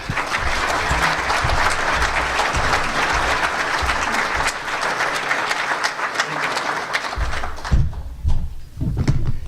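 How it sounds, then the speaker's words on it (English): Loud, dense applause from a lecture audience in Iowa greeting Professor Peskin, a seed-oil author, sustained for several seconds before thinning out, with a few voices breaking through near the end. "So let's give him a round of applause."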